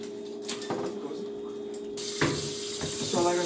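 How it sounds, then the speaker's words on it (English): White rice is washed under a running kitchen tap. Water splashes and gurgles unevenly into a sink and grows fuller partway through, with a few brief clatters and no talk. "So right now I'm going to wash my white rice."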